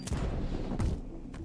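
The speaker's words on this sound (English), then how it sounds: "I like how it's the sound of like a lighter." Fire effects in the VR game Voyager VR crackle and burst in several quick puffs, like a lighter flicking, with bright hissy flares between low rumbling whooshes, moderately close and without talking.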